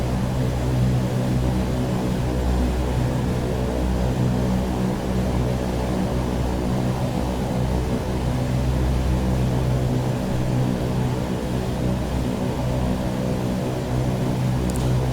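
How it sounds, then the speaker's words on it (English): Propeller aircraft engine in the X-Plane flight simulator, easing off the throttle on approach, a steady loud droning hum with low throbbing tones that holds throughout, no voices. "I'm just going to dial back on the throttle right now and drop below 148 and start extending the flaps"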